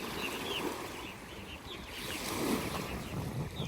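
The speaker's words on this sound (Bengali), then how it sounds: "অনেক শব্দ ঢেউ" Lake waves lap and wash steadily against the shore while gusty morning wind buffets the microphone, no voices, fairly close.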